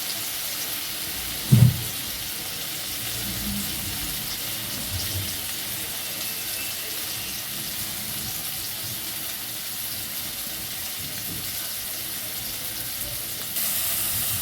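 Potatoes fry in a pan, giving a soft, steady sizzle close by, broken once by a brief clatter near the start.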